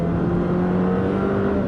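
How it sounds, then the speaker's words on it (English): The four-cylinder engine of a 2019 Jeep Compass drones at a steady, moderately loud pitch, heard from inside the car for a brief moment without any talk. "the engine sound of that 4-cylinder is pretty unrefined"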